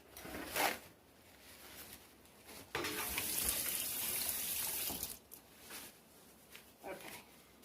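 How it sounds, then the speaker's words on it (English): Water runs from a kitchen sink tap as hands are rinsed mid-way through making spoon drop biscuits, a steady broadband rush lasting a couple of seconds between quieter handling noises. "Let me wash my hand off a little bit."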